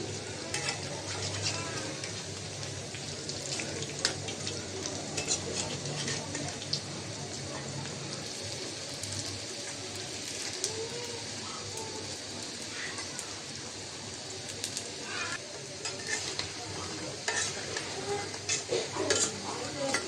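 Water lily flower fritters frying in oil after being flipped, a gentle ongoing sizzle with crackles and occasional utensil scrapes and clinks, quiet and close.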